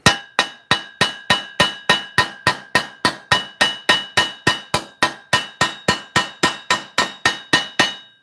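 A blacksmith hammers metal on an anvil in a new shop, striking a steady run of about two dozen loud, ringing blows at an even, brisk rhythm, close up and with no talk.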